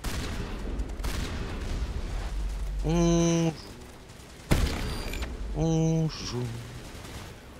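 Gunfire in the Mass Effect video game during a heated fight, broadband bursts and sharp blasts over a noisy battle backdrop, with synthetic electronic tones and people talking over it.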